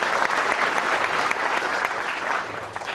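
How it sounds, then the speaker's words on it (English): Loud, dense applause from a crowd at a political youth rally in Toronto, a steady wash of many hands clapping that eases slightly near the end. "Everyone give a big round of applause and a warm welcome to Ben Cochran."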